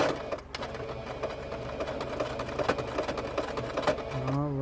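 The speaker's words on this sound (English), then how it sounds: "we're going to back stitch to make sure that we secure it" A sewing machine back stitches along the seam of a two-piece scrub cap, a close, steady rapid mechanical whir with a short pause early on and a brief change in tone at the end.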